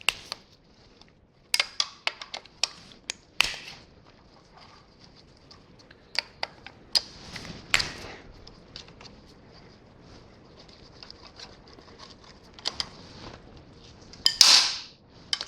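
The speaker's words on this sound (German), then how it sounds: "hier diese 3 Schrauben des Ölfilterdeckels. Die einfach rausdrehen." Three screws are turned out of an oil filter cover, producing sparse, sharp metallic clicks and taps from the tool, close by and scattered irregularly over a quiet background.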